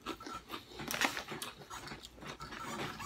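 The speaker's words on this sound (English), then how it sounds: "A chip with this much crunch" Someone bites into and chews a Cape Cod russet potato chip, giving a close, quiet series of dry crunches and crackles over a few seconds with no talking.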